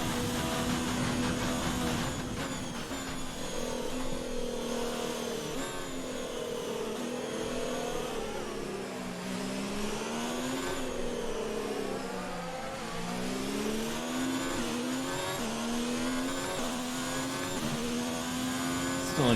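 Ferrari Formula 1 car engine in the racing game F1 2019 at the China circuit, a loud continuous high-pitched whine rising and falling as the throttle is feathered through corners, with no talk.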